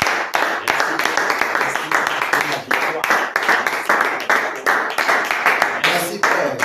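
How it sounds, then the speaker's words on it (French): A church congregation claps and cheers for the Lord in a loud, steady burst of dense applause that fills the room from start to finish, with shouting voices mixed in. "Est-ce qu'on peut acclamer pour le Seigneur?"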